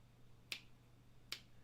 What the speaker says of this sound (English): is picking up me snapping my fingers